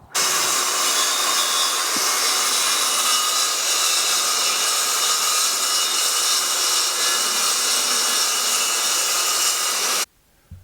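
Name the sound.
saw cutting through wood house siding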